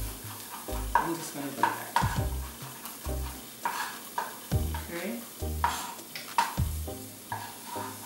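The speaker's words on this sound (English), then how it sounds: "And while that's sauteing" Finely chopped vegetables sauteing in a pan for vegan jerk, a loud sizzle broken by rhythmic stirring scrapes roughly every second, with a brief spoken remark over it.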